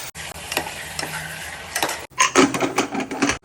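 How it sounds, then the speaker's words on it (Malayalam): Masala-coated prawns fry in sunflower oil in a pressure cooker, crackling and sizzling steadily under repeated stirring scrapes, with a short break before busier, louder stirring. "കുക്കർ അടുപ്പത്ത് വെച്ച് സൺഫ്ലവർ ഓയില് മസാല തേച്ച് വെച്ചിട്ടുള്ള ചെമ്മീന്"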